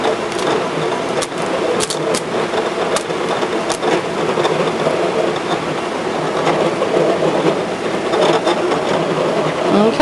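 A Brother ScanNCut cutting machine slices through adhesive heat-transfer vinyl, giving a steady mechanical whir with small clicks and stepping ticks as the carriage moves, close and continuous for the whole stretch.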